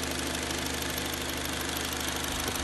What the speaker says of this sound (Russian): Машинка работает четко, ровно, нет никаких вибраций, колебаний, все работает очень даже хорошо.